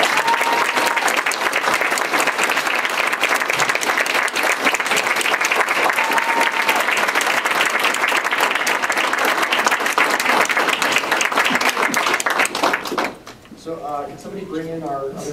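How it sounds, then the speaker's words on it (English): Audience at a legislative candidate forum applauding, loud sustained clapping for about thirteen seconds that cuts off abruptly, followed by a voice talking. "Can we give them both a round of applause?"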